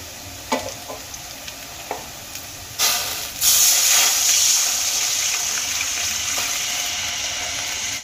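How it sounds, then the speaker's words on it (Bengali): About a cup of water goes into a hot pan of fried ginger and green chillies, bursting into a loud, steady steaming hiss after a few light clinks, holding strong until it cuts off. "এবার আমি এর মধ্যে দিয়ে দেব জল।"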